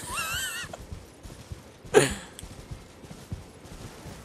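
A horse whinnies in the video game Elden Ring, a brief loud neigh at the start, followed by a sharp hit and scattered combat noises at low level.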